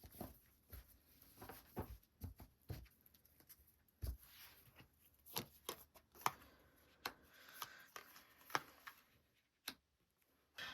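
Tarot cards being shuffled and drawn at close range, in soft, quiet bursts of riffling and tapping with brief pauses and no talk.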